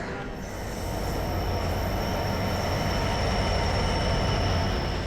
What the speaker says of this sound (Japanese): 列車到着。